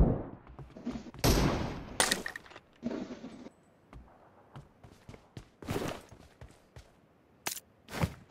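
PUBG Mobile team deathmatch gunfire, loud sharp bursts of shots and rapid fire from close range, separated by quieter stretches of game sound and clicks.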